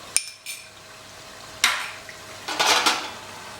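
A spoon scrapes and clanks against a metal pot while dhaba-style chicken masala is stirred and roasted, with sharp isolated knocks followed by a cluster of clattering strokes and no talking.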